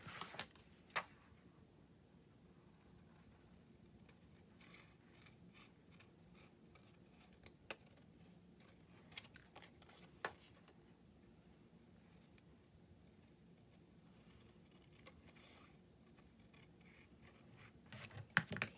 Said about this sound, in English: We're going to cut that out.